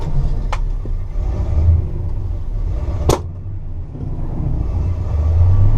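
A restored 1964 Pontiac GTO with a Tri-Power engine and 4-speed drives along a countryside road, giving a loud, steady low rumble with two brief sharp clicks and no talk.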